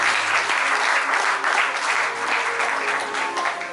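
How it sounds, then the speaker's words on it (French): Dense, continuous applause from a crowd at a book launch, loud and steady throughout with no break and no clear voices over it. "Grande acclamation, s'il vous plaît."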